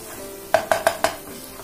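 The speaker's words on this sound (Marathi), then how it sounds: "आता व्यवस्थित मिक्स करून घेते" A spoon stirs raw banana, drumstick and potato vegetable in a cooking pan, giving four quick, evenly spaced scraping clinks against the metal, close and fairly quiet.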